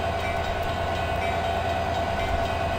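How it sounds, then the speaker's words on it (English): Steady, loud rumble and hiss from inside an Amtrak Surfliner passenger train while it runs, a continuous broadband roar with a faint high whine and no breaks throughout. "We are aboard the Amtrak Surfliner."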